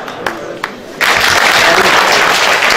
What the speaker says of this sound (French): Applaudissez quand même.